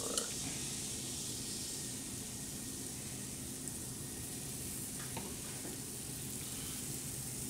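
Waffle batter searing in a waffle iron gives a steady, close sizzling hiss that holds evenly throughout, with a few faint clicks and no talking.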